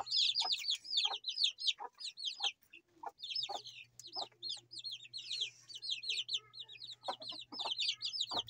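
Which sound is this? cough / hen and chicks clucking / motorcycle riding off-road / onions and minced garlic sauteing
hen and chicks clucking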